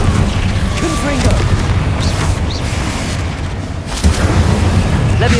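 Confringo spell blast in the video game Hogwarts Legacy on PS5: a dense, continuous booming roar of fiery explosions, loud and close, with no quiet gaps.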